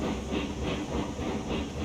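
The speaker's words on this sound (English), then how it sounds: "let's get this train going" A train rolls steadily in the Railroads Online game, with a low rumbling drone and soft periodic clatter pulsing roughly every third of a second; it is moderately quiet, with no talk over it.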